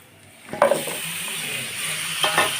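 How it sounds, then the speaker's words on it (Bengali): Vegetables stirred and fried with turmeric and chilli powder for a koi fish curry, a loud steady sizzle with two distinct spatula scrapes near the start and end. "সবজিগুলো দিয়ে নেড়ে চেড়ে আমি ভালোভাবে ভেজে নেব"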